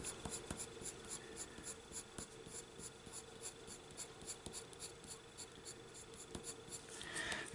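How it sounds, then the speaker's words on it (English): A Uniball glitter gel pen scratches softly across a colouring page, a faint, steady writing rasp with small strokes that continues throughout, close to the microphone. "gel pens and I'm thinking we're going to put some of that on this page too."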